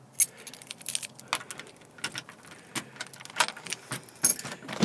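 A bunch of keys jangles and clinks in a series of bright, uneven rattles while a door is being locked, close and moderately loud, with faint background hum between bursts.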